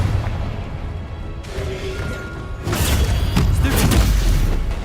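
Confringo explosion spell cast in the game Hogwarts Legacy, heard as a low booming blast that swells into a loud crashing burst with a sharp crackle, over a steady rumbling game background.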